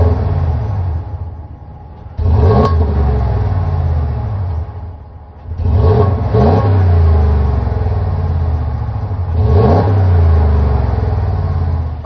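A Ram pickup's 5.7-liter Hemi V8 with eTorque revs up three times from a rumbling idle, each rev a loud, throaty roar that drops back down, close by.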